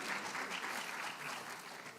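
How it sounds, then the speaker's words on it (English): Steady applause from an audience at a medical school awards day, a continuous, fairly quiet wash of many hands clapping from a distance. "Please clap if you know them."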